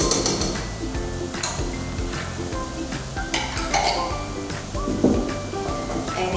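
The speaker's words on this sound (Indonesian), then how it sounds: "And again we stir" Gajar ka halwa, grated carrot cooked with ghee or butter, stirred in a pan: a spoon scrapes and knocks against the metal in a steady rhythm over a soft sizzle, loud and close, with no talking.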